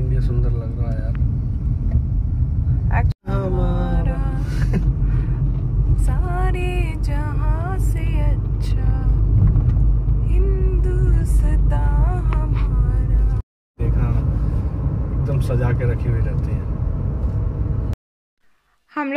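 A car drives through German village countryside, its low, steady road rumble running under continuous talking, with a few brief cuts to silence.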